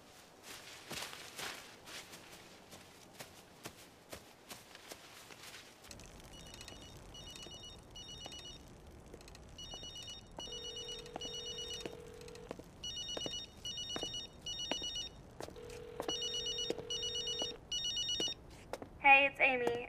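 A telephone rings on an outgoing call in a tense drama scene, repeated electronic ring bursts in a regular pattern after early footsteps and rustling, with a short beep near the end.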